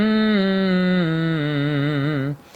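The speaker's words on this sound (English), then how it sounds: "a light forward-placed hum that travels the range of a fifth" A sustained, light forward-placed hum from a vocal warm-up, steady at first then gently wavering and stepping down in pitch across a fifth, ending abruptly.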